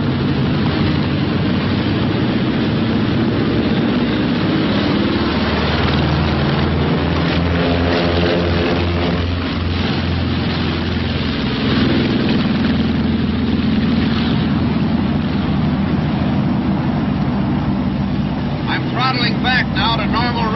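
B-26 bomber's twin piston engines roaring during the takeoff roll, a steady loud drone with shifting propeller beats, while voices talk over it throughout.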